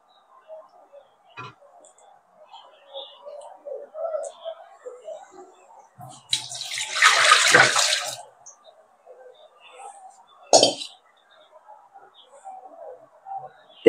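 Surface water poured off settled kurdai starch: a brief splashing pour of about two seconds, with a short second splash after it, set among faint small knocks and near-silence.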